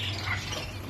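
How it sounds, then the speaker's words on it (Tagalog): Parrots squawk in a short, harsh, faint burst of bird calls, with a steady low hum beneath them. "Parrots."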